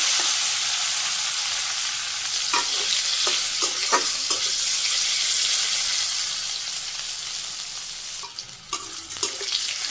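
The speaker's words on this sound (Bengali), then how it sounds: "এই তেলে আমি করলা ভাজি করি করলা অল্প অল্প করে ভাজি করি" Bitter gourd frying in hot oil, done in small batches, makes a loud, continuous sizzle, with a few spatula scrapes and clicks cutting through now and then.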